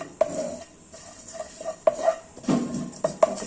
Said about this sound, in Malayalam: നമ്മൾ പാൻ അടുപ്പിൽ വെച്ച് ഒന്ന് ചൂടാക്കിയിട്ട് നമ്മൾ ആദ്യം ഈ മസാലകളെല്ലാം ഒന്ന് വറുത്തെടുക്കണം